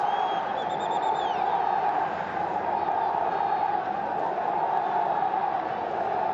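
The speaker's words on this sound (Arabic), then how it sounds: "الجماهير النصراوية" Al-Nassr football fans in a stadium crowd, a steady dense roar of chanting and cheering, fairly far off, with a whistle near the start and a commentator's voice over the top.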